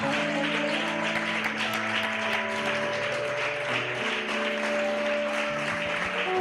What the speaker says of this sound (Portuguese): Você consegue dar uma salva de palmas ao Senhor?